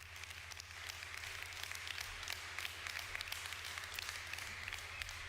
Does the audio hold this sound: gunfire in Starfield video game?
no